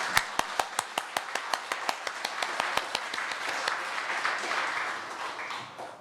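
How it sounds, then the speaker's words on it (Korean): A church congregation claps in thanksgiving at an early morning service, starting with about a dozen distinct, evenly spaced synchronized claps that then blur into looser, softer applause before fading. "우리 좋으신 하나님께 우리 감사의 박수를 올려드릴까요?"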